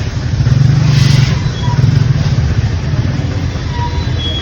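Heavy road traffic in Bengaluru with motorcycles and cars gives a steady, close engine rumble with light revving, continuous throughout with no voices.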